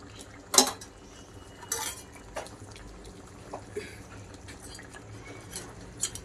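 A spoon clinks and scrapes against a metal pot while chicken masala is stirred into a crab curry, with a few sharp clanks among quieter scraping and a low background hum.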